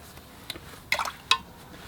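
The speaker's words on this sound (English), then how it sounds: "And then you get some finer splashing" Brush flicking fine splashes of watercolor paint onto paper for a winter landscape: a faint tap, then two brief wet spatters close by in a quiet room.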